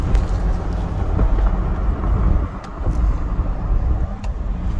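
A Toyota 4Runner drives along a road with a steady low rumble of engine and tire noise from inside the cabin, continuous and fairly loud, with no talking.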